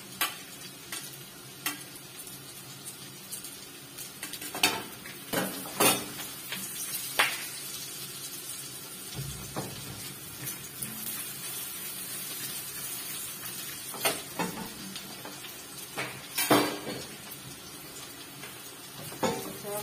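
Garlic sizzles in a pan for braised pork belly with tofu, a low steady hiss punctuated by repeated stirring scrapes and clinks of a utensil against the pan, close by.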